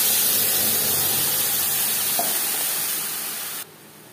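Tomato paste frying in about three spoons of hot refined oil, a steady broadband sizzle and hiss that holds evenly and then drops off abruptly near the end.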